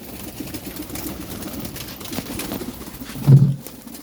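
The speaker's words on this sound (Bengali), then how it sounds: "সবাই কি সুন্দর খাবার খাচ্ছে পায়রাগুলো" Pigeons feed together with soft pecking and shuffling in the background, and one low, throaty coo rises clearly near the end.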